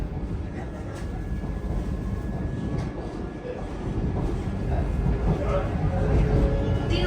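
A Vande Bharat Express train pulls away slowly and picks up speed, a steady low rolling rumble that grows gradually louder while heard from inside the coach.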